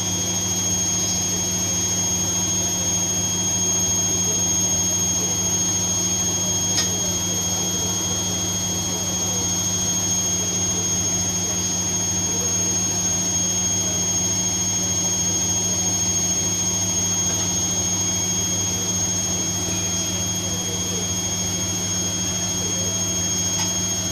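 A Bosch washing machine on its spin cycle, with the drum shaking slightly on top, makes a loud, steady, close whirring drone with a high whine. The sound stays the same for the whole stretch and no one talks.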